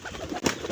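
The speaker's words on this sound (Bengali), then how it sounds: "আর এখানে তো কবুতরগুলো খাচ্ছে" Pigeons feeding together give a short burst of cooing, a single near, moderately loud call amid quieter background rustle.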